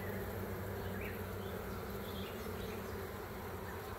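Honeybees hum steadily around a garden hive, a continuous dense buzz at moderate level with no other sounds.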